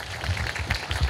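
An audience claps for a speaker at a talk on natural-products branding, producing a fairly soft, steady patter of applause that lasts about a second.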